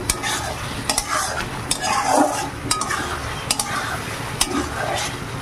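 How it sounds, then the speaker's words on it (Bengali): Spiced potatoes stir-fried in a pan, sizzling steadily up close while a spatula scrapes and clinks against the metal in repeated sharp strokes; no one talks. "দেখুন এবার খুব সুন্দরভাবে কষিয়ে নেব,"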